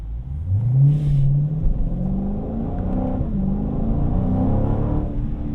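A 2019 Dodge Challenger T/A 392 engine revs up hard as the car accelerates toward 60 mph, the pitch climbing through gear changes in a steady, loud, close-up roar.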